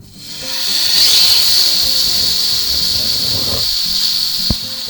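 A seasoned one-inch ribeye steak sears in a smoking hot pan, giving a loud, steady hiss that swells as the meat goes down and stays constant, with a faint clink near the end.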